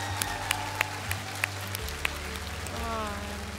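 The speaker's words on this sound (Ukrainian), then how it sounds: "Ці оплески тобі зараз." Studio audience applause on the Ukrainian Voice of the Country singing show after a battle round, a dense, rain-like patter of clapping under a low musical hum, with a few sharper claps standing out.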